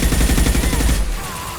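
Bursts of rapid gunfire from a firefight in Mass Effect Legendary Edition, loud and dense for about a second before fading into a lower ambient hum.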